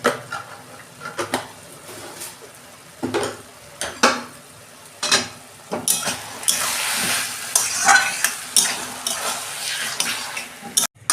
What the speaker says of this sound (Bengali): আমি একটু নেড়ে চেড়ে শুকনো করে নেবো